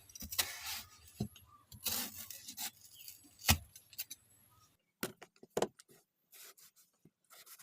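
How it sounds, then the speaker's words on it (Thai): Seeds and pulp are scraped from a peeled, halved winter melon for a Thai candied melon sweet. Close, intermittent rubbing and scraping strokes come in uneven bursts, with short quiet gaps between them. "เราก็จะนำมาผ่าครึ่งนะคะ เอาเม็ด แล้วก็เอาไส้ออกให้เกลี้ยงค่ะ"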